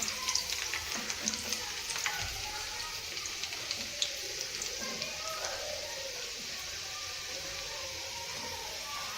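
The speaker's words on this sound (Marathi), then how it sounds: "बघू शकताय लसणाच्या पाकळ्या पण मी तेलात टाकून घेतलेल्या आहेत" Garlic cloves frying in hot oil in a pan, a continuous bright sizzle with scattered pops and spatters throughout, close and steady.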